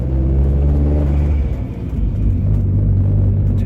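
Engine of a Safari car idling and running steadily, a deep continuous rumble with low harmonic drone throughout, close and loud, no voices.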